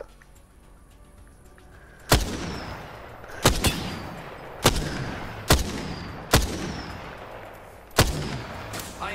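Gunfire in Apex Legends during a sniper shootout: about seven sharp, booming shots spaced irregularly a second or so apart, each with a long reverberant tail, over a low ambient background.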